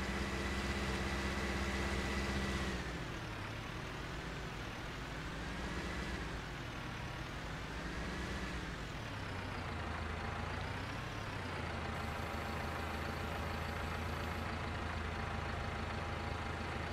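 A tractor engine idles steadily during hay hauling on a farm, with a loaded bale trailer nearby, a continuous low rumble that runs close and fairly loud throughout with slight wavering in pitch and no talking.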